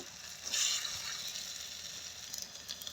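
Rounds of chapati dough made with gondho bhadal leaves fry in hot oil, giving a faint, continuous, even sizzle with no talking.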